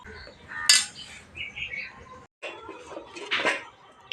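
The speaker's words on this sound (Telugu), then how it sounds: "గిన్నె అయితే పెట్టేసుకుంటున్నాను" A metal pot clanks as it is set down for boiling gongura leaves, followed by a few lighter clinks and scrapes of kitchenware at close range.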